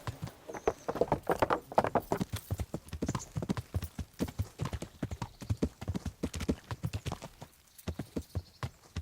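Horse hooves clip-clop steadily and briskly in Kingdom Come: Deliverance, a continuous rhythmic patter of close, fairly loud hoofbeats with a brief pause near the end, and no one talking.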